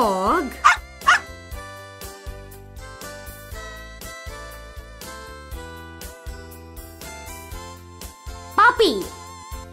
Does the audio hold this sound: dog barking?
yes